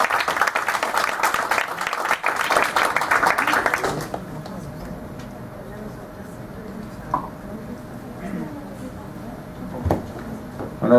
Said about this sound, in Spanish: Pues brindemos un fuerte aplauso a los ponentes